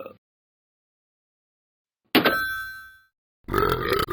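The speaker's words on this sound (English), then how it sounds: "he's going to burp, and let's see if it's bigger than mine" Two loud, close burps, each a gravelly, drawn-out belch of about a second, separated by brief silence.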